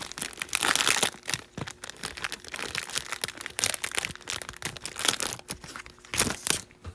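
Close, continuous crinkling and tearing of the plastic and cardboard packaging on a Prizm basketball card hanger box, with bursts of crackling rising and falling throughout and no talk.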